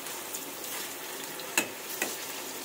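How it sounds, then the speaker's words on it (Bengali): Paneer fries in a hot pan, giving a soft, continuous sizzle with a couple of sharp stirring clicks and scrapes. "কিন্তু আমি একটুখানি পনিরটা ভেজে নেব"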